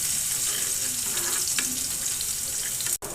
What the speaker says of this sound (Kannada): ಈಗ ನಾವು ಆಗಲೇ ಜಜ್ಕೊಂಡಿದ್ದಲ್ಲ ಆ ಬೆಳ್ಳುಳ್ಳಿ ಹಾಕ್ಕೊಂಡು ಲೈಟಾಗಿ ಫ್ರೈ ಮಾಡ್ಕೊಳ್ಳಿ.